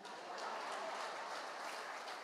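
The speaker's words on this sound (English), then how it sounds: "Makachena, clap hands for him." An audience at a conference lesson claps hands together in a brief, dense burst of applause that stays even and fairly soft throughout.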